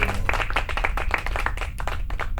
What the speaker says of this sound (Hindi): जोरदार तालियां हो जाए बिट्टू और मुन्नी के लिए।